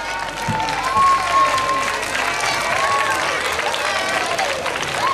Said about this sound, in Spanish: Pues un aplauso también para Sofía